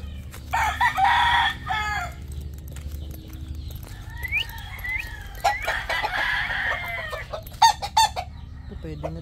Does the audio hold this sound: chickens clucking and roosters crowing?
yes